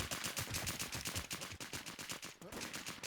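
Gunfire in the survival shooter WarZ: continuous rapid automatic shots, tightly spaced and loud, forming a dense unbroken volley for the whole stretch.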